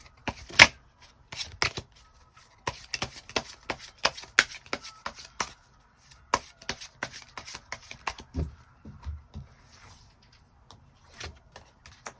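Tarot cards are shuffled and drawn close by, with crisp riffling snaps and soft slaps coming in irregular bursts, then a few muffled thuds as cards are laid down.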